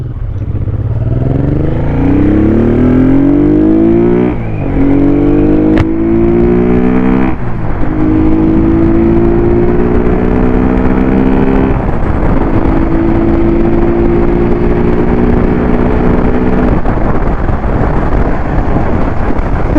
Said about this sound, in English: Time to give this bike a little thrash down the road.